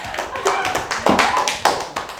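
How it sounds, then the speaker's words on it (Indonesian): Brief applause in a university teaching session, a small group clapping in uneven taps for a couple of seconds, close and fairly loud in a room. "Tepuk tangan"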